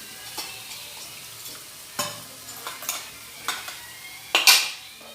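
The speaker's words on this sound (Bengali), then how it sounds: "এখানে আমার মশলাটা আমি ভালো করে ভেজে নিচ্ছি।" Spice paste (masala) for a potato and egg curry frying in a pan, heard as scattered spoon-scrape clicks and stirring taps over a low background, with a louder sizzling burst near the end.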